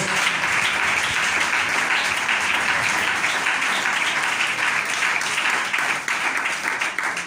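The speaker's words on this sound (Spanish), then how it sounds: "¿Cuánto le dan un aplauso al Señor?" A church congregation applauds for the Lord in a long, steady wash of loud clapping that continues evenly the whole time without pause.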